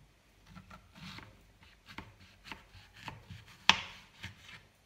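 Repeated knife cuts through a flat piece, likely wood, come as soft scraping strokes followed by a single sharp, loud snap near the end, close and with no talk.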